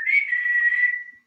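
A single clear whistled note from a person, held steadily for about a second with slight wavering before fading out, close and fairly loud with no talk.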